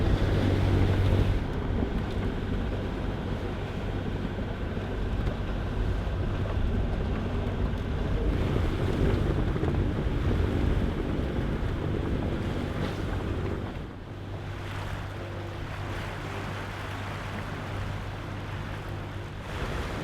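Wind and ocean waves buffet a sailboat near Sausalito, with steady loud wind rumble across the microphone and washing water throughout, the level easing slightly near the end.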